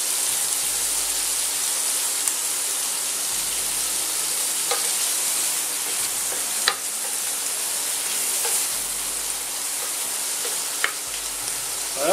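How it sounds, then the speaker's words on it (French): Seafood sears in a very hot frying pan, giving a continuous bright hiss and sizzle with occasional sharp pops and crackles, heard alone without talk. "On met les fruits de mer dans une poêle bien chaude."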